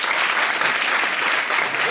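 Show audience bursts into brief, dense applause, a continuous roar of clapping hands at steady loudness for a couple of seconds.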